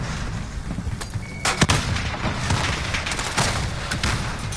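Grenades burst during a competitive shooter video game match amid steady gunfire, a series of sharp booms and cracks over a constant dense battle backdrop, loud and close, with no talk.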